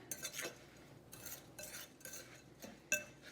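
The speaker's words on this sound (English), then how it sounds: "Just wanna throw those in there and mix those in." Crushed crackers stirred into a bowl with a utensil for salmon or tuna cakes: faint scraping and stirring strokes in a few separate bursts, ending in a light clink, with no talk.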